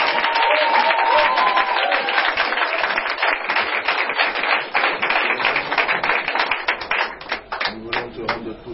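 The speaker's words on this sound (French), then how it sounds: "qu'on acclame très fort. Plus fort." A church audience at a Saturday prayer service applauds loudly and continuously for a prophet, dense clapping with crowd voices mixed in, gradually thinning toward the end.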